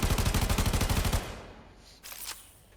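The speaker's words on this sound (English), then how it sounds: "So it's like a mini chain gun." Tennora Prime assault rifle from Warframe, a minigun-like weapon with a 200-round magazine and a fire rate that builds up, fires a fast, steady stream of shots for about a second, then stops. Scattered fainter game sounds follow.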